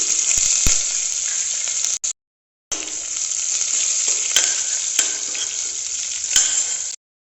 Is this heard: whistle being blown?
no